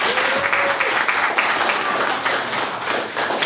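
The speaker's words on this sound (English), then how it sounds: "A quick round of applause for our judges for this evening" An evening debate audience applauds the judges, a steady dense wash of clapping filling the room for the whole stretch, with a faint voice briefly audible beneath it.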